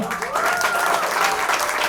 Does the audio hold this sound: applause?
yes